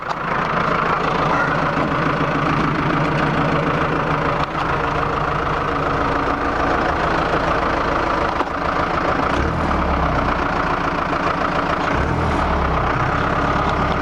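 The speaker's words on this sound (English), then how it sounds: "So what I'm going to do is take you for a ride in my tractor." A heavy tractor diesel engine rumbles steadily and loudly throughout, with a low chugging knock and no voices.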